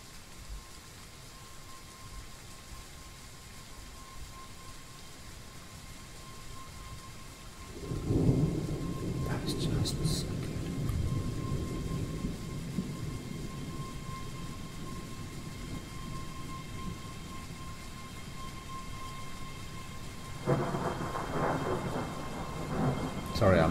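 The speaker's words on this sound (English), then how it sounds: "Whoa, that's a heavy thunder crash." Heavy thunder rolls in a Train Sim World 4 thunderstorm, a deep rumbling crash building midway and lingering, with steady rain hiss underneath and a second rumble near the end.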